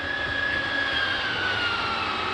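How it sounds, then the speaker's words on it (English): A large slide-out on a 2021 Gulfstream BT Cruiser 5245B RV extending under its electric motor, a steady whining hum with a faint rising tone that runs the whole time, no talking. "It's a pretty big slide out, so it does take a little while to get out."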